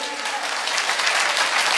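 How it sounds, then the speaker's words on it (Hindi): An audience at a Safe Shop gathering claps in dense, steady applause lasting about two seconds, with a voice heard faintly beneath it. "एक बार अभी तक जो तालियां ने बजाई है उससे कई हजार गुना तालियां उस इंसान के लिए बजाई है।"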